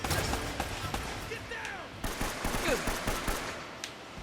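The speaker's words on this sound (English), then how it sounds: "Yes, shoot the wall. Let's shoot the walls." Gunfire in the video game Uncharted comes in sharp bursts of shots with scattered impacts, fairly loud against a busy game background.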